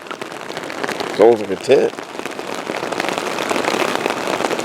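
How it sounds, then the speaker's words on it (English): Rain patters steadily on an Outdoor Research Advanced Bivi, a small tent-like shelter, in a dense, close hiss that runs throughout, while someone speaks briefly in the middle. "So I gotta get out in this rain"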